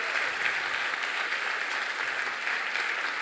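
A church congregation claps together in a steady, full round of applause that holds at an even level throughout, with no voices.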